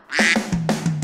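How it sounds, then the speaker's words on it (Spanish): A duck quacking in a children's song, a couple of short nasal quacks, loud and close, heard in quick succession. "El pato hace ¡cuac!"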